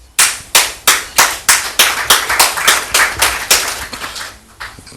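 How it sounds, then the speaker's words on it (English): Minister of Local Government applauding at a Ghanaian government announcement event, sharp rhythmic hand claps of one nearby person, about a dozen even strikes over several seconds, loud and alone without talk. "That's the Minister of Local Government clapping"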